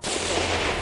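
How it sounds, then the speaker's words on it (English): Gunfire erupts from a gas station parking lot near a police traffic stop: a sharp onset followed by a loud, dense crackling burst that sustains for under a second. "officers were jolted by the sound of gunfire erupting from a nearby gas station parking lot"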